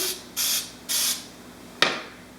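Three short hissing bursts of aerosol cooking spray with flour onto muffin pans, evenly spaced, followed by a brief clatter.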